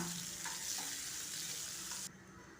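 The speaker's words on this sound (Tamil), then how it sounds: "வெங்காயம் நல்ல கலர் மாதிரி வர வரைக்கும் நம்ம வதக்கி எடுத்துக்கலாம்" Sliced onions sauté in a hot pan for a chutney, a steady crackling sizzle with soft stirring scrapes, close and continuous before dropping abruptly quieter near the end.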